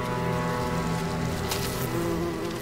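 Bees and hornets buzz in a steady, dense drone during a hornet attack on a bee colony, close and continuous, with a brief louder swell midway.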